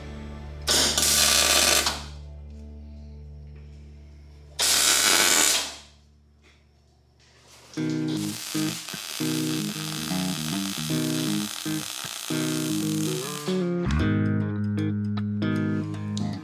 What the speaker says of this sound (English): I'm gonna tack weld this washer to the shift linkage.